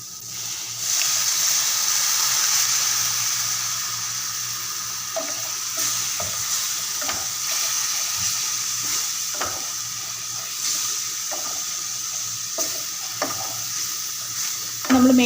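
Onion masala for egg curry sautéing in a pan, a loud steady sizzle broken by repeated scraping stirs of a spoon, with no voices.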